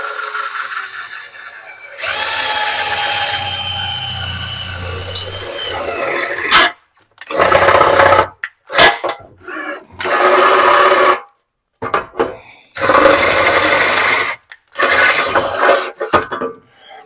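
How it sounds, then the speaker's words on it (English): A power drill bores without a pilot point bit during spare tire mount and shock crossmember work, loud whirring bursts of varying length broken by short silences, with no talk. "I'm not using a pilot point bit"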